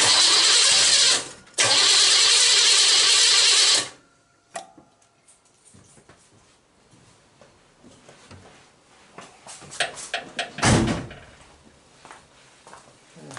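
A 1969 Chevelle engine cranks loudly in two long bursts during a compression test, followed by quieter clanks and rattles and a brief revving surge near the end.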